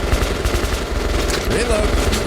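Rapid automatic gunfire from the video game Metro rattles close and loud in a dense continuous burst, with faint voice traces mixed underneath.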